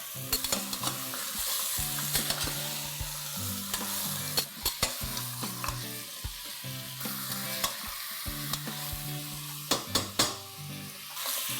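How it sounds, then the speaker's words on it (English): A kilogram of mutton sautés over a high flame for a curry, sizzling steadily while a spoon scrapes and stirs the pot in repeated clattering strokes, with no talking. "Now let's add a kg of mutton to this and saute this on a high flame"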